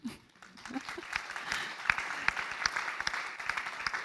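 Applause from a crowd, a dense patter of clapping that swells after a brief quiet start and carries on steadily.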